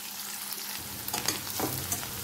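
Sliced onion and green chillies fry in a pan until reddish, giving a soft, steady sizzle. Brief stirring scrapes come through near the end, and no one speaks.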